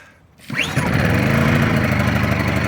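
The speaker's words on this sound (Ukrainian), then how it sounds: "Все, генератор запустився." After a brief quiet moment, a petrol generator fires up with a quick rising whine and settles at once into a loud, steady engine drone, close by and alone.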